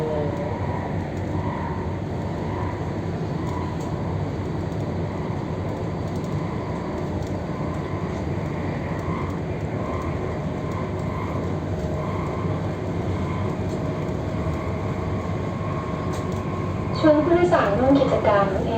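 Bangkok Airport Rail Link train running toward Suvarnabhumi Airport, a steady interior rumble and rail hum throughout, with a brief louder rattle near the end and onboard announcements in Thai heard over it.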